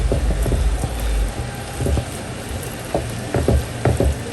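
Pork sisig with mayonnaise sizzles and crackles in a frying pan while it is stirred, giving soft scraping strokes and bursts of hissing at an uneven, unhurried pace.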